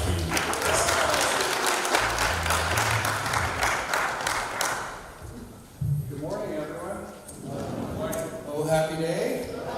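Graduation ceremony applause for Dr. Keith at a theological seminary: about five seconds of dense, steady clapping from the room, then it fades out as voices and singing take over.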